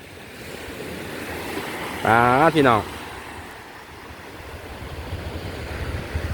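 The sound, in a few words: sea waves breaking on the beach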